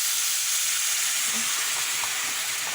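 Vegetable oil sizzles steadily in a pan on medium-high heat, a continuous close hiss with no talking.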